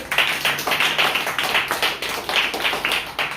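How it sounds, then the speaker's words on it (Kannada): Schoolchildren at a primary school quiz competition clap for the winning team, a brisk group applause of rapid, uneven claps sustained close and loud throughout. "ಅವರಿಗೆ ಚಪ್ಪಾಳೆಯನ್ನ ಹೊಡೆಯಿರಿ"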